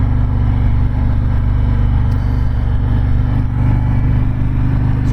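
A 2019 Harley-Davidson Road Glide engine runs under steady throttle at cruising speed, a loud, continuous low drone with a throbbing pulse and rushing wind noise.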